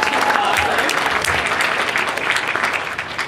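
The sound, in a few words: audience clapping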